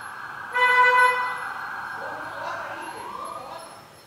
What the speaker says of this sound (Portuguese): Só passar o barulho aí da sirene da polícia.